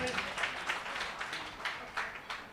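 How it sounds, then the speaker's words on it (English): Audience at a charity fundraising event in Johannesburg clapping for a sponsor, a soft, somewhat distant patter of applause rising in small bursts. "Give him a big round of applause."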